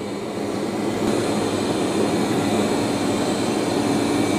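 A Roborock Q5 Pro robot vacuum, mop pad removed, runs on maximum suction over a messy room floor, giving a steady, loud motor whir and airflow roar with no pauses and no talking.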